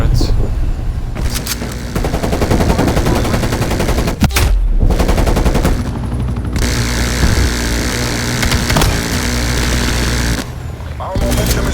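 Sustained, loud turret gunfire in a Call of Duty: Black Ops Cold War open beta match, with rapid continuous bursts and brief pauses, close and dominant throughout.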